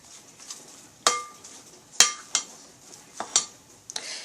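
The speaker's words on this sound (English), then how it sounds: "I'm going to stir it up" Corned beef with black pepper and blended seasoning is stirred in a pan. A utensil strikes the metal in about six sharp, irregular clinks over a quiet background.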